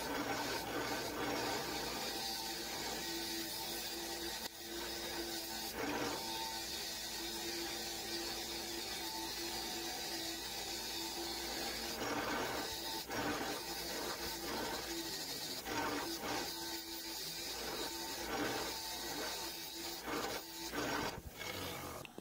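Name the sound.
cleaning the head of an old Clark expansive auger bit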